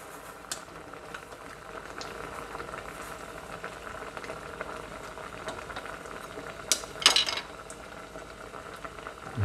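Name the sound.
bracken fern (gosari) boiling in pot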